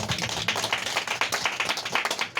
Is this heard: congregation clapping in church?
yes